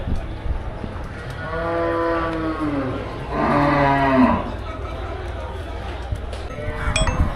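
Jersey cattle moo loudly at the Melapalayam cattle market, with long drawn-out calls rising over a busy open-air din of voices and faint metallic clinks.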